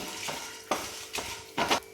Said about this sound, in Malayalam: ലോ ഫ്ലെയിമിൽ വെച്ചിട്ട് തന്നെ വറുത്തെടുക്കാം